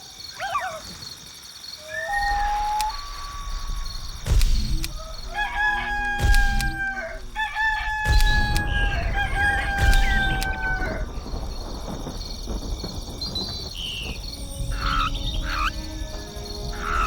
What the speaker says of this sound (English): Roosters always crow when the sun comes up.